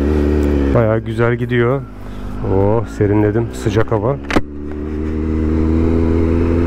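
A 2017 Kawasaki Z900 948cc four-cylinder motorcycle engine with the dB killer removed rumbles deep and loud nearby, rising and falling in pitch as it revs and shifts while someone talks over it.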